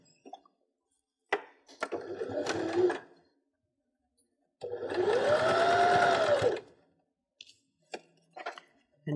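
Domestic sewing machine stitching a fabric Christmas cracker, two close bursts of rapid mechanical whirring with a rising and falling motor whine, separated by pauses and small handling clicks.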